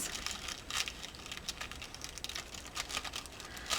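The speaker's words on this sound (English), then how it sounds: "I'm going to tear up from the bottom" Collage paper being torn up from the bottom by hand, a quiet run of dry crinkling and tearing crackles coming in small bursts close by.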